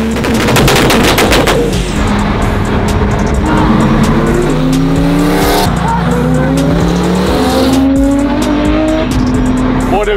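A twin-turbo 2018 Mustang and an 800-horsepower Porsche 992 race hard, opening with rapid machine-gun-like exhaust crackles, then loud roaring engines climbing through gears with rising whines, close and intense.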